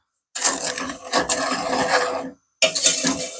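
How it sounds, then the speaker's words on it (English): A wooden spoon scrapes and rubs around a pan of melting sugar for salted caramel, two bursts of rough stirring separated by a short pause, close and fairly loud. "So just regular stirring as it heats up."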